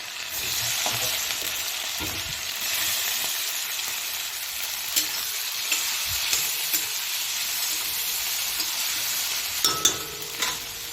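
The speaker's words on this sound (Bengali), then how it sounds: "আলুটা দেখো লাল লাল করে ভাজা হচ্ছে" Boiled potatoes frying in a little oil until reddish, giving a loud, steady close-up sizzle with occasional faint clinks of a utensil toward the end, and no voices.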